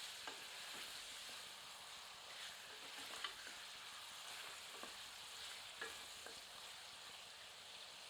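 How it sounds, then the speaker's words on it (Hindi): Mutton frying over medium heat in a pan, a steady soft sizzle with scattered light crackles and occasional stirring scrapes, continuous and fairly quiet throughout. "मध्यम आंच पर मांस को लगभग 3 मिनट भूनते हैं।"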